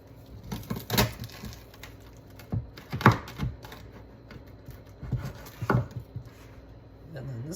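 A crispy steak and Gorgonzola flatbread crust is cut into triangles, giving a few sparse, sharp crunching cracks spaced a second or two apart over a low background, close and moderately loud.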